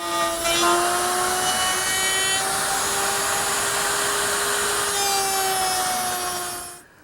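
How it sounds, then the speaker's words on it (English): Router fitted with a dovetailing bit and collar cutting tails into wood for a chest, a loud, steady high-pitched motor whine with rough cutting noise that holds for several seconds then winds down and stops. "I'm going to use my router, which is now set up with a dovetailing bit and a collar."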